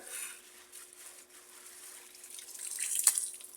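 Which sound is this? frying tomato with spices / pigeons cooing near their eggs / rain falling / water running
water running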